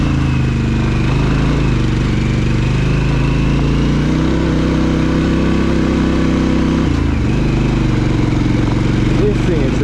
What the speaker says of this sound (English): just let the bike work its way up the hill.